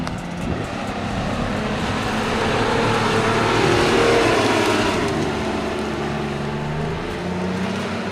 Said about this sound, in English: The Nissan accelerated smoothly, but it gained an excellent speed to the middle of the distance.